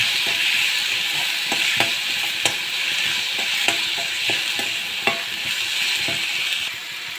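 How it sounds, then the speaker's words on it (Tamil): Broad beans sizzle steadily in a hot pan while a spoon scrapes and taps against the metal in irregular strokes, close up and without talk. "இந்த உரிச்சு வச்சு மொச்சக்காயை சேர்த்துக்கோங்க. சேர்த்து வதக்கி"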